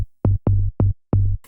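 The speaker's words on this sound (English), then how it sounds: "That is a sample of the M1 organ bass." Four short, punchy notes of a sampled M1 organ bass repeat in an even rhythm, each a deep thud with a brief tail, loud and dry, with silence between hits.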